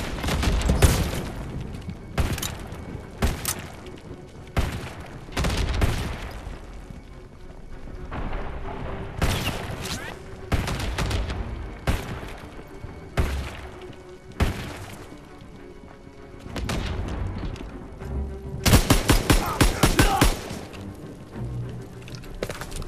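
Dense wartime gunfire from enemy soldiers in Call of Duty: WWII, Hill 493: rapid bursts and heavy thuds crackle almost nonstop, loud and close, with booming impacts and brief lulls between volleys.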